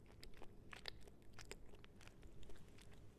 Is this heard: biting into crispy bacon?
yes